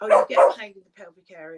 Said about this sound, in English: Excuse my puppy in the corner, she's off.